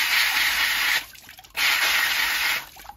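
The foam filter of a TESVOR S6 Turbo robot vacuum is swished back and forth in water, giving two loud sloshing, rushing bursts separated by a brief quieter pause.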